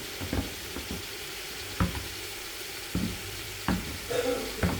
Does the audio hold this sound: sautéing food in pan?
yes